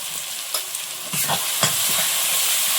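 Padma hilsa fish being stirred in a pan with salt and turmeric, giving a steady close sizzle of frying broken by a few scraping stirs, with no talking.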